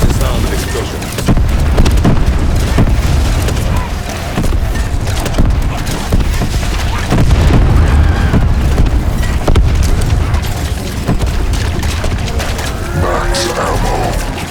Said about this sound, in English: I've long become numb to the sound of explosions.